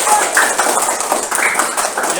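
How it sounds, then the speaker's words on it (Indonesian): A classroom of children applauds a student group, producing a dense, continuous patter of many hands clapping at close range, mixed with a few voices. "Sekarang berikan tepuk tangan untuk kelompok jagung."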